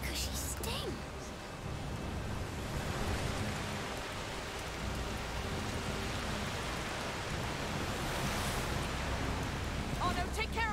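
Steady rain pours throughout a scene in the video game A Plague Tale: Requiem, a dense hiss of falling water with low rumbling underneath, close and constant with a few brief sharper sounds at the start and end.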